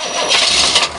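A car engine cranks on a weak, cold, dead battery, a loud, close, labored whirring churn that swells twice without catching.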